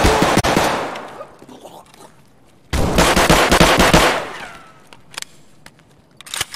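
Rapid automatic gunfire in the tactical shooter Escape from Tarkov, loud close bursts of rattling shots separated by quieter gaps, followed by a few sharp single cracks.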